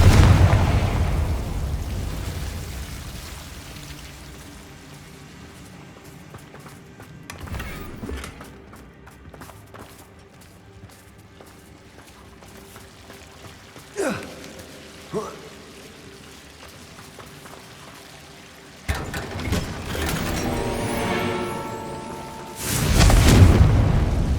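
Confringo fire spell explosions going off in Hogwarts Legacy on PS5: a few booming bursts with crackling tails, scattered through a long stretch of game ambience and spoken voices, the heaviest blast coming near the end.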